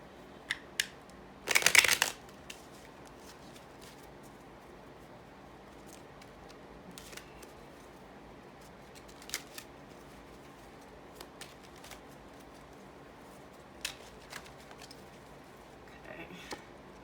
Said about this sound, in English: Let me get a few tarot cards here.